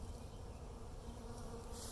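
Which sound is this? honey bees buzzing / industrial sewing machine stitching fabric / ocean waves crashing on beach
honey bees buzzing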